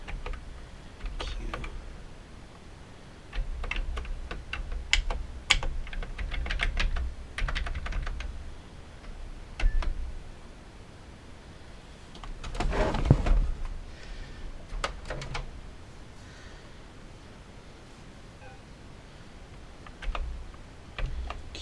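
Keys clack on a Coleco Adam computer keyboard under troubleshooting, in scattered bursts of close, crisp typing separated by quiet pauses, with one louder knock midway.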